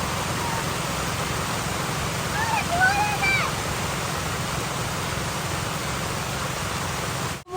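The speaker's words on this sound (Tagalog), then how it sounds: "Umulan na guys, umulan na." Steady rain pours down outdoors under a darkening sky, a dense continuous wash of even hiss with no breaks, close and loud throughout, with a few faint bird chirps briefly audible in the middle.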